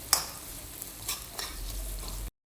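Onions frying gently in moderately hot oil, a soft steady sizzle with a few sharp clicks of stirring utensils, fairly quiet and close.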